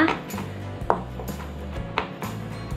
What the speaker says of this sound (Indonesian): selanjutnya aku mau cincang bawang putih. Ini dicincang-cincang aja ya.